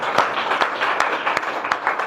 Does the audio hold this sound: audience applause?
yes